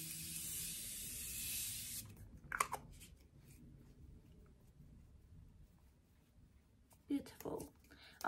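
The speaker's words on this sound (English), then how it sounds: "I'm just gonna go ahead and put setting spray." Makeup setting spray mists out in one steady, close hiss lasting about two seconds, then stops, followed by faint handling sounds and soft movement.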